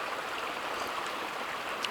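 A wilderness creek in Washington flows with a soft, even burble and hiss, steady and fairly quiet throughout with no voices.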